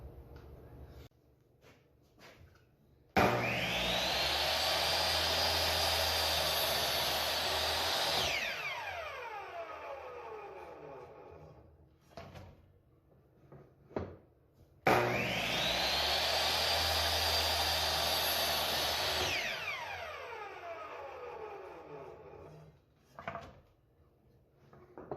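A miter saw cutting wood stock set against a stop block in a woodworking shop: two separate cuts, each a sudden loud motor whine and cutting roar lasting several seconds, then a falling spin-down as the blade coasts to a stop, with quiet handling noises between.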